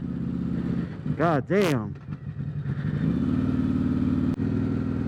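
A 2020 Harley-Davidson Road Glide Special Stage II with an S&S 475 cam revs sharply twice in quick succession, then settles into a loud, lumpy idle. A man briefly exclaims between the revs.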